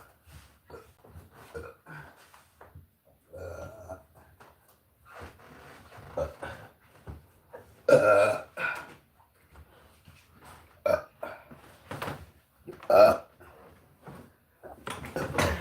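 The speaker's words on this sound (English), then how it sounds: "It's going to come out as a burp, a belch" A person lets out a series of burps and belches, scattered irregularly and fairly close, with quiet gaps between and little talk.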